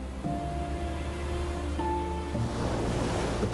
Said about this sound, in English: Powerful waves eat away at the rocks to create perilous cliff faces.